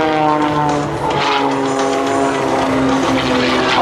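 Aerobatic competition airplane flown by Matt Chapman at the 2008 AirPower Over Hampton Roads air show, a loud continuous propeller engine drone with shifting pitch as it maneuvers.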